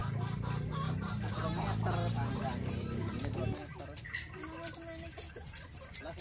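Ornamental chickens at a breeding farm cluck and call through a steady background din, with a person talking loudly over them for the first half.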